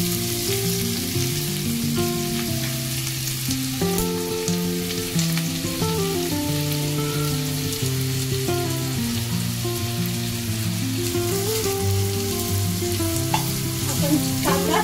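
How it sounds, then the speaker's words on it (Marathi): Onion frying in a pan with whole spices and asafoetida for chicken keema, a steady sizzle with occasional stirring, running continuously under background music. "आपण कांदा छान परतून घेऊया"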